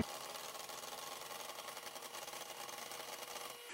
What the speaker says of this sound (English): Now I've got an electric beater, which I borrowed off my mum.